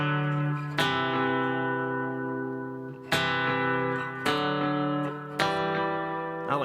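Electric or acoustic guitar sounding sustained two-note chords in thirds, four separate strums ringing out one after another with clear harmonic overtones, played alone with no talk.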